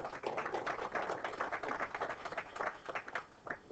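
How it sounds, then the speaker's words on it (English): Steady applause from a pool hall audience fills the air for a player at the 2011 Virginia State 9-Ball semifinal: dense overlapping claps with no one speaking, thinning toward the end. "Nice round of applause for Mr. Greg Taylor."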